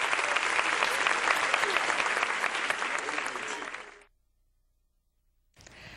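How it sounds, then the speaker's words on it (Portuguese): Audience applause at the centenary of the Teatro Deodoro, a dense sustained burst of clapping that fades out, falls silent, then briefly resumes. "Nossos aplausos ao Teatro do Deus Dourado."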